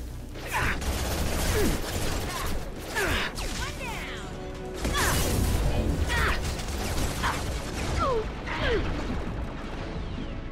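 Gunfire in Mass Effect 2, rapid bursts and sharp impacts scattered across a busy combat scene, loud and close, mixed with mechanical clatter and whooshing effects.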